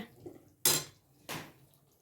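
Wheat flour roasting in plenty of ghee in a pan gives two distinct, close scraping strokes of a utensil against the pan, separated by a short pause, over a faint background.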